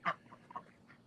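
A few farm ducks quack nearby, with one louder call followed by several softer, short quacks over about a second.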